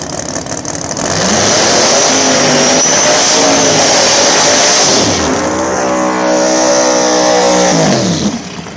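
Twin-turbo LS small-tire radial drag cars racing at a drag strip, engines roaring loud and continuous with rising revs, a brief dip, then another pull before fading.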